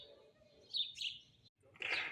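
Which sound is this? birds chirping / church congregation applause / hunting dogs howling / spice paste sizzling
birds chirping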